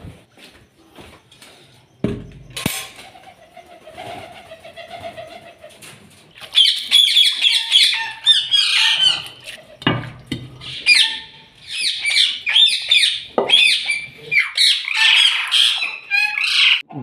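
Loud, harsh parrot squawks burst out repeatedly in a noisy flurry of alarm, rising after a quieter stretch of softer bird sounds and flutters.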